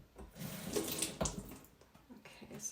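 Water runs briefly from a kitchen tap while hummus is being made, a close, soft splashing stream lasting a couple of seconds with uneven bursts.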